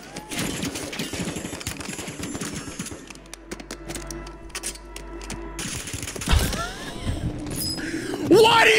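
Rapid bursts of automatic gunfire in Call of Duty on Rebirth Island come in clustered volleys with brief lulls, loud and close, while a player talks over parts of it.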